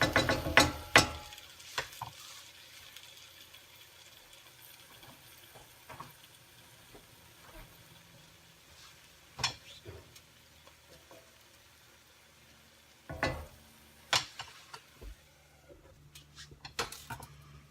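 A wild rice and spinach frittata cooks covered on low heat, giving a faint steady sizzle broken by a few sharp clinks and knocks from the pan and lid, with no voices.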